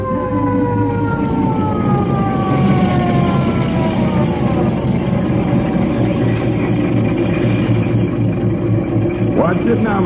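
A fire engine siren rendered as an old radio sound effect wails in long falling sweeps over a steady engine rumble throughout, loud and close, with brief rising tones near the end.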